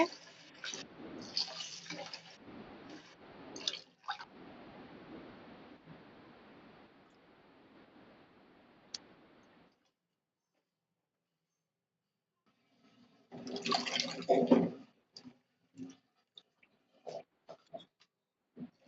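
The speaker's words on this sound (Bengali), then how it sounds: "আমি এদিকে কচিগুলা এইগুলা আলুগুলা ধুয়ে নিব ভালো করে" Potatoes and young vegetables are washed by hand in water, producing splashing and sloshing in bursts, loud at first, then a long quiet gap, then a renewed close splashing burst and scattered drips.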